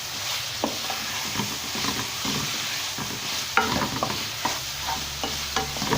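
Onions frying in hot oil for dry beef chilli, a steady dense sizzle with occasional stirring scrapes and clinks, close and continuous with no talking.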